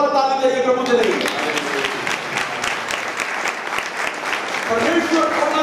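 Loud, sustained clapping from a church congregation at the P C F Church in Nurmahal, filling the whole stretch with dense applause while voices carry on over it.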